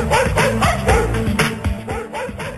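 Dogs bark and yip in rhythm over a thumping dance beat in a novelty record, barks punching through steadily and loudly.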